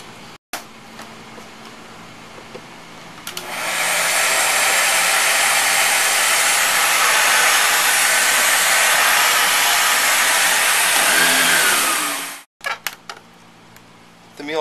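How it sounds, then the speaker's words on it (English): A loud, steady motor whine with broadband air rush from a Miele S1 Quickstep upright vacuum cleaner starts abruptly, runs for about nine seconds, then cuts off; quiet room noise before and after. "converts the S1 into a full-size upright vacuum cleaner."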